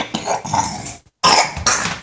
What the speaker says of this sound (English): A nasty cough.